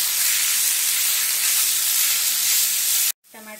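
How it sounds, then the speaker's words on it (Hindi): Tomatoes frying in a pan for whole masoor dal make a loud, steady sizzling hiss close up that cuts off abruptly near the end, followed by a short tonal sound. "अब हम उसमें टमाटर डालेंगे, इसे सॉफ्ट होने तक भून लेंगे अच्छे से।"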